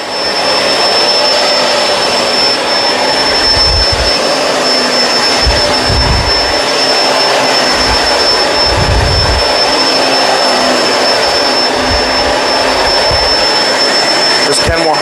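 A Kenmore Crossover Ultra vacuum cleaner runs steadily on carpet, its loud continuous motor whine and airflow roar constant throughout, with low thumps from the agitator head and a few faint bits of talk underneath.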